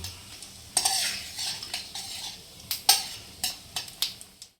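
Dry red chillies and cumin temper in hot oil, a soft sizzle punctuated by a series of sharp metallic clinks and scrapes from a spoon against the pan.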